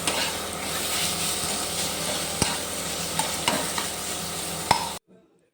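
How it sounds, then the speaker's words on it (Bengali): Grated potato mixed with salt and ground pepper is stirred steadily in a bowl, a continuous close scraping texture with a few sharper knocks of the spoon, ending abruptly in silence. "তারপরে গ্রেট করে আলুটা দিয়ে দিব, ভালো করে মিশিয়ে নেব।"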